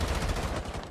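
Rapid automatic gunfire in Rainbow Six Siege, a loud, continuous burst of closely spaced shots with heavy recoil, filling the whole moment.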